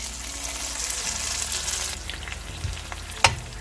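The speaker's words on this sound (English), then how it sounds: "Next, I am going to add in our spinach puree to it." Spinach puree going into a sizzling cashew gravy for a creamy corn and spinach curry, producing a steady close frying hiss that eases off, with a sharp utensil clack near the end.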